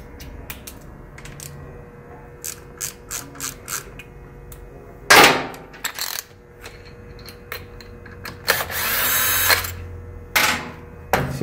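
An impact-style power tool breaks bolts free on a 2018 BMW S1000RR, short loud buzzing bursts with ratcheting clicks, metallic clinks and a longer whirring run near the end, close up in a workshop.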